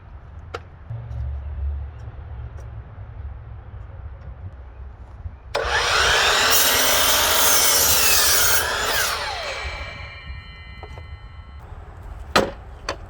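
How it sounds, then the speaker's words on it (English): A miter saw slices through a wooden board for a homemade pull-up bar: one loud, whining cut of about three seconds rises sharply out of a quiet room, then stops, followed by a single faint tap. "Now I'm going to perform the same cut on all four before I move the miter to its next position"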